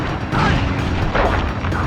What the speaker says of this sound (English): I will send you to your doom with the beauty of my new firework technique, Flame Foo.